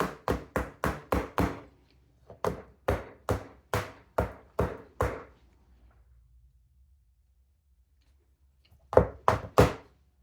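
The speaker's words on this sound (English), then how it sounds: "we're going to give them a tap on the counter, which kind of knocks the air out." A filled cupcake pan of devil's food cake batter is rapped on a kitchen counter: about a dozen quick, sharp knocks in a row, a pause, then three more close, loud taps.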